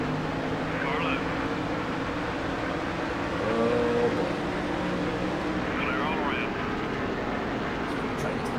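Stock car engines drone steadily through 18 laps on a 2.5-mile superspeedway in the racing game Nascar Thunder 2003, a dense continuous roar with slight swells as cars pass, running under a commentator's voice throughout.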